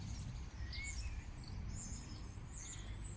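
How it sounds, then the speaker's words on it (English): Small birds chirp and trill at an allotment, with short high calls scattered throughout over a quiet outdoor background, moderately distant and fairly faint. "It's so noisy down here with the birds."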